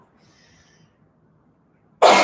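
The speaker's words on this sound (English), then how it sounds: "And sneeze." A single sharp sneeze bursts out loudly near the end after a quiet stretch, close and abrupt.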